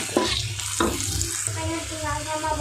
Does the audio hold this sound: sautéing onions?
yes